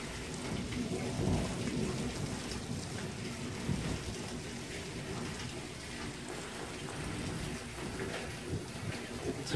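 A thunderstorm with heavy rain pouring steadily and loud thunder rumbling through, a dense continuous roar of rain over low booming thunder, no voices.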